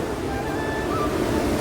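The swollen Ambika river after the first rain makes a loud, steady rush of flowing water that fills the short stretch without a break.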